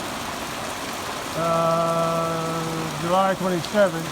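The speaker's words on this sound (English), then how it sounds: "And it's raining. It started to rain." Rain falling outside on a July evening, a steady hiss throughout, joined midway by a humming tone, with someone speaking briefly near the end.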